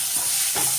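Steady sizzling of onions frying in a pan, with a brief scraping stir partway through; close and continuous, no voices.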